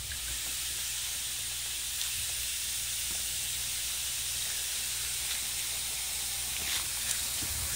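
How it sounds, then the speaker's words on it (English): High-pressure misting nozzles inside a DIY aeroponics grow tower spray continuously, a steady, fairly faint hiss that stays unbroken and even throughout. "then we'll open the top, and then you can see the actual mist in action"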